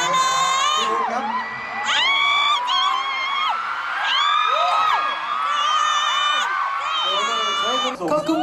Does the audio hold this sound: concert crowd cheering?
yes